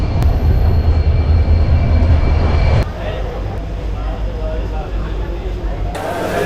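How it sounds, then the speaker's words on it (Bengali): Steady rumbling of a train rolling into New Jalpaiguri station, with a low mechanical drone and a sharp clank partway through. "10 মিনিট লেটে আসলো আমাদের ট্রেন।"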